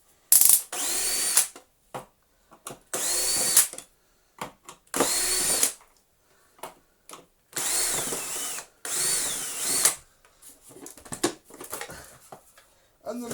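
Power drill in short bursts undoing four screws on the motor housing of a Panasonic MC-E465 bagged upright vacuum, several separate whirring runs with pauses between them, close and fairly loud.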